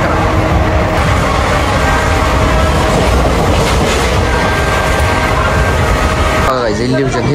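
A train runs along the rail line near Lonavala during a monsoon trek to Visapur fort, a loud, steady rolling rumble with clickety-clack from the wagons that shifts near the end as voices come in.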